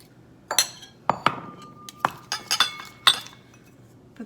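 Red wine vinegar is mixed into a salad in a bowl for a smoked shrimp dish, with a series of sharp, ringing clinks of a utensil against the bowl, spaced irregularly and heard close.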